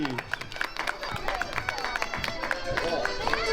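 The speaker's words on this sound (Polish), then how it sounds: "Brawa, brawa, brawa, zachęćmy brawami." A crowd claps at an outdoor grape harvest festival in a village near Zielona Góra, rhythmic clapping and cheering mixed with chatter and a voice over the crowd.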